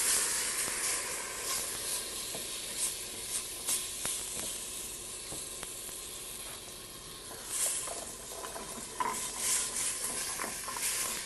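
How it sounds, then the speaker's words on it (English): Canned diced tomatoes get stirred into a pot of southwest tortilla soup, with a steady soft hiss and simmer under repeated scraping and clinking stirs. "you can add about 24 ounces or so of canned diced tomatoes"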